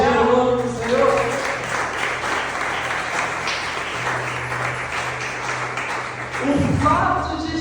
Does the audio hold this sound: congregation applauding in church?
yes